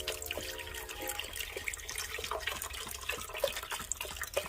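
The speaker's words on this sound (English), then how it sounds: "what we're going to do now is pour our chicken broth in" Chicken broth from a 32-ounce carton poured into a soup pot on a home stove, a steady splashing liquid stream with small drips, close and continuous for several seconds, no talking.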